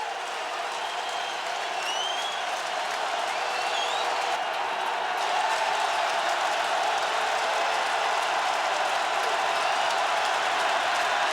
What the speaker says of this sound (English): get this crowd riled up. Listen to that crowd.